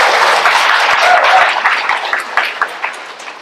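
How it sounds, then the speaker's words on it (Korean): An audience at a Catholic prayer night in a hall in Incheon claps, a dense round of applause that swells, holds, then thins into scattered individual claps and fades out. "다시 한번 박수 주실까요?"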